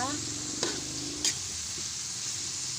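Small cubes of tokwa tofu frying in hot oil, a continuous bright sizzle with two quick utensil clicks over a low background hum.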